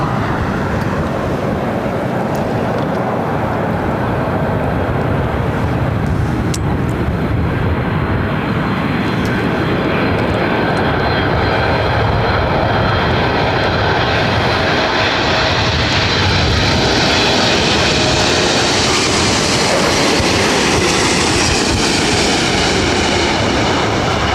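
A fixed-wing airliner landing at LAX roars loudly, the engine noise swelling and shifting in pitch as it passes, with wind buffeting the microphone throughout.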